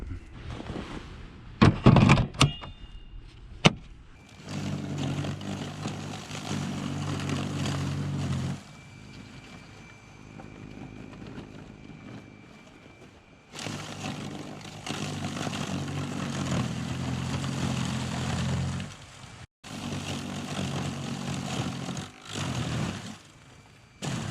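A Toro 60-volt battery snow blower chews through a hard pile of ice and snow left by a snowplow, its steady whirring drone running loud and near in long stretches, broken by short pauses and a few clunks at the start.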